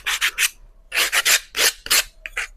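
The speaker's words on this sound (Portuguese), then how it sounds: "Uma coisa simples, uma madeira envolvida numa lixa" A small wood block wrapped in sandpaper scrubs over a custom wooden display base, making loud, close, rasping strokes in short bursts with brief pauses between them.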